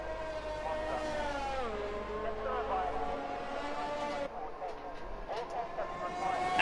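A race car in an online racing game laps the Melbourne circuit, its engine a rising and falling whine through gear changes as it rounds the final corner, heard under a commentator's voice.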